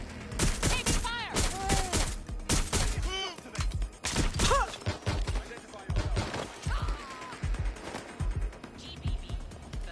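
Video game gunfire from Watch Dogs Legion crackles in rapid, uneven bursts and single sharp shots, loud and close, mixed with shouted voices and other game sounds.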